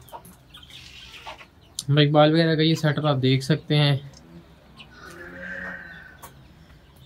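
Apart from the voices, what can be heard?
roosters clucking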